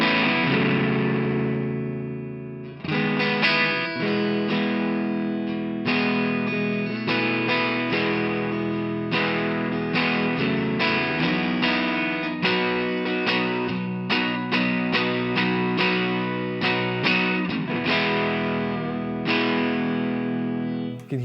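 Electric guitar played through a Blackstone Appliances MOSFET Overdrive pedal with the guitar volume rolled back, giving a warm, mildly driven tone as chords and notes ring out alone for about twenty seconds with repeated strummed attacks.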